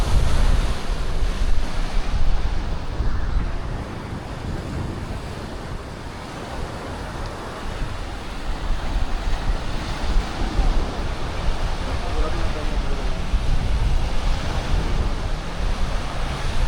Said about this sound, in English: I would have to say we've got some, 30-mile-an-hour gusts today here and there